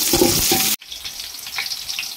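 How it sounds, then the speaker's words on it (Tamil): Green chillies hit hot oil in a pan while mushroom biryani is cooked, giving a loud, bright sizzle that cuts off abruptly, then a softer, lingering crackle continues. "இப்போ நாட்டு பச்சை மிளகாய் இதை சேர்த்துக்கலாங்க."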